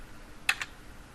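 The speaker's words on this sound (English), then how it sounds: "delete the current address using the backspace key on our keyboard" Two quick clicks of a computer keyboard key, such as the backspace key, close and crisp, sounding one after the other with quiet room tone around them.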